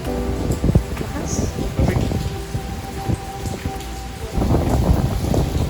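Typhoon rain pours and patters heavily on nearby surfaces with gusting wind, steady and loud with scattered drops and knocks, while voices talk over it outdoors beside a jeepney.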